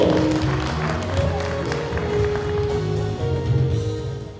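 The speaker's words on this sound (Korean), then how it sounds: "여러분 박수로 모시겠습니다" An audience at a lecture gives a steady round of applause to welcome a speaker, dense clapping that holds throughout and fades slightly at the end.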